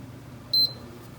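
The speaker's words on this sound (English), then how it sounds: "We hear the beep" A PS4 console gives its power-on beep: one short, clean electronic tone over a low steady hum, lasting about a tenth of a second.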